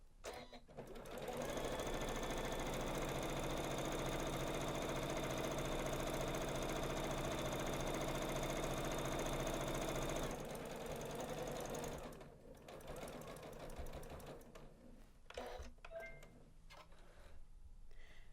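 Janome sewing machine running steadily while stitching a basting row about 3/8 inch from a fabric edge for a bag panel, a loud continuous whirring hum for about ten seconds, then it stops and quieter handling noises follow.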